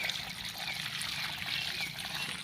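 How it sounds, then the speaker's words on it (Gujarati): Water pours steadily into a floor drain, a continuous trickling, splashing flow that runs without a break at moderate, close range with no talking. "બારમાં રેડી દઈએ પાણી"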